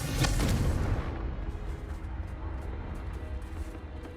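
A Confringo spell in Hogwarts Legacy sets off a close, booming explosion whose sharp onset gives way to a long rumbling decay with crackling debris fading over several seconds.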